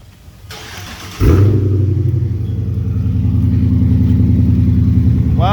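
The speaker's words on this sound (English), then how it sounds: "that's how it sounds with those muffler deletes and mufflers removed" A Dodge Charger with its mufflers removed fires up nearby and settles into a loud, rumbling idle that holds steadily for several seconds, raw and unmuffled with no talking.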